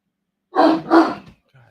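A dog gives two quick, close barks in succession, followed by a brief faint sound.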